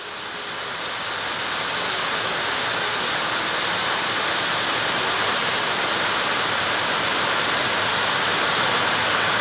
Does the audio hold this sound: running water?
yes